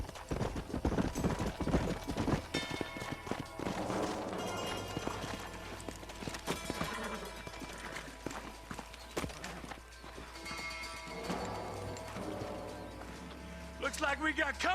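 Horse hooves clip-clop steadily in the Western game Red Dead Redemption, mixed under a music score and spoken dialogue throughout, with a brief horse whinny possible amid the busy soundtrack.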